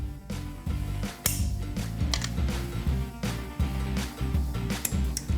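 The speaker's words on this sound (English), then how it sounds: "Get the torque wrench out for maximum torquage." Torque wrench tightening bolts on the General Lee car, up to about 75 foot-pounds, giving close, repeated mechanical ratcheting clicks in quick bursts with sharp metallic ticks between them.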